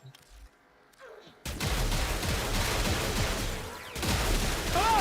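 Rapid weapon fire in the video game Warframe comes as a dense, continuous burst of fast shots after a brief quiet start, loud and steady with a short dip near the end.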